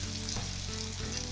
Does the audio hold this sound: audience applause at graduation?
no